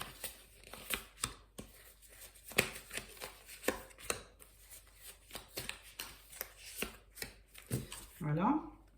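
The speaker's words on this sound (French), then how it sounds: "on va donc sortir 5 cartes du tarot doré" Tarot cards from a golden deck shuffled and drawn one by one, a series of crisp papery flicks and slaps at an uneven rhythm, close by, with a person speaking between them.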